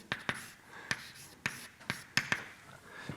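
Chalk or marker strikes a board in quick taps and short strokes, about eight sharp, near hits in an uneven rhythm, with a lecturer writing during a cell transport lecture and no talk.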